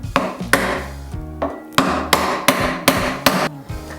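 Repeated hammer blows while pressing epoxy mixed with dust into the walls of a live edge wood dining table; about nine sharp, close, loud strikes in an uneven rhythm, with no talking.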